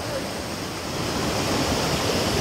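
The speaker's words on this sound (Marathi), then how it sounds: "इथनं पाणी बघा किती जोरात होतोय आणि असाच जातोय पाणी वाहत तिकडं खालच्या साईडला" Fast-flowing water rushes through a forest stream, a steady, loud, broadband roar with no breaks and no voices.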